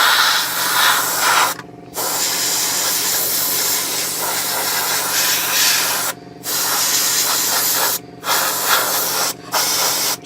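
An airbrush sprays paint onto a plastic 1/35 scale Takom Chieftain Mk10 tank model, a close, steady hiss running in long bursts with several brief pauses.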